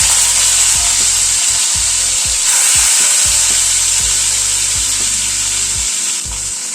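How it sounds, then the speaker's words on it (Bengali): Fish sizzles in hot mustard oil in a wok, a loud, continuous crackling hiss close up, broken by repeated soft low scraping knocks of turning or stirring, with no voices. "তেলটা গরম হয়ে গিয়েছে, মাছটা ছেড়ে দিচ্ছি।"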